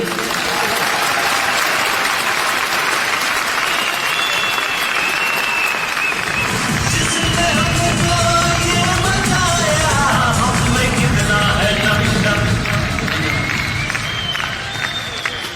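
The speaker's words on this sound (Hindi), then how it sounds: "तो न्यूट्री चार्ज के लिए एक बार तालियां बजाएंगे हम" A large audience claps at a stadium celebration event, a loud continuous wash of applause that swells midway with added crowd noise and scattered cheering before tapering slightly at the end.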